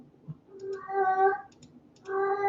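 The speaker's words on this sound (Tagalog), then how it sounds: "Narinig niyo yung pusa ko?" Pet cat meowing close by, two drawn-out tonal meows separated by a short pause, with faint clicking in the background.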